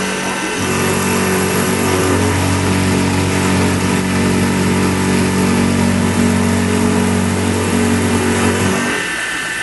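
Milling machine spindle spinning at about 1,000 RPM, a loud steady motor whine with a constant tone that holds for several seconds and then winds down near the end, with no talking.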